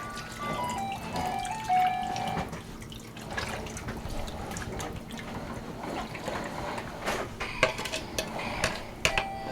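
Teriyaki sauce pours onto chicken in a slow cooker, a wet, steady stream with clinks of dishes and utensils, close and fairly loud, with no talking.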